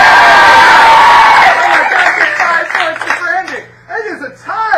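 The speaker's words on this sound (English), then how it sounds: "give her a round of applause." An improv game show crowd claps, cheers and whoops loudly, then the noise drops off abruptly and a speaker talks over the dying applause.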